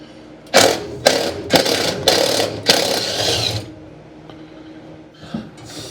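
A ratchet wrench works on a truck in a few loud, separate bursts of clicking close by, each about half a second long, followed by a quieter pause and then a short burst near the end.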